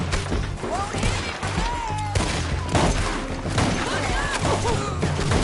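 Gunfire during a shootout in Red Dead Redemption 2, several sharp shots and impacts among shouting voices and background game noise.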